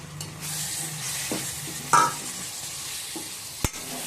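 Chopped tomatoes go into a pan of frying spices for a dry fish curry, a soft continuous sizzle with a few stirring scrapes and a sharp clack near the end.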